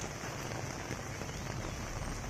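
Rain falls on city streets as a soft, even hiss of drops on hard surfaces, fairly faint and unbroken.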